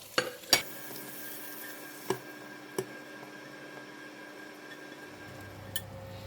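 Cooked chicken, prawn and fish cake are lifted out of a frying pan after cooking a stir-fried yee mee, giving a few sharp, separate utensil clinks against the pan over a quiet kitchen background.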